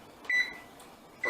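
An oven timer being set beeps twice, with short, sharp electronic tones separated by a pause, loud and close in a quiet kitchen.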